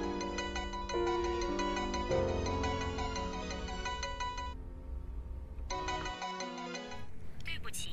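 Phone ringtone in a Chinese romance drama with Vietnamese voice-over, a repeating bright melodic ring that plays on unanswered, stops briefly, then starts again, with talk near the end.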